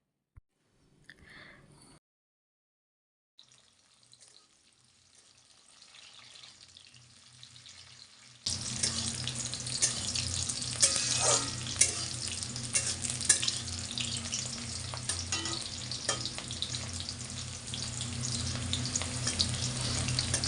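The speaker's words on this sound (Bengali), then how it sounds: "এবার কাজু আর কিশমিশটা একটু ভেজে নেব।" Cashews and raisins frying in a mix of white oil and ghee in a pan, a loud, steady sizzle starting abruptly partway through and continuing to the end, preceded by quieter faint kitchen sounds.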